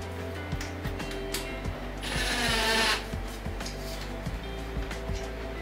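A brushless 18-volt impact driver works on a 10 mm bolt, giving a roughly one-second burst of loud hammering whir amid steady mechanical clicking and a low background hum.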